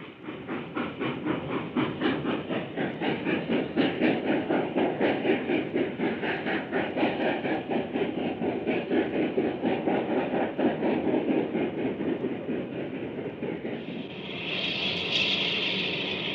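A Union Pacific Big Boy steam locomotive, number 4013, pulls a heavy train past through a rail yard, rumbling with a rhythmic chugging throughout, loud and close, ending in a burst of hissing steam.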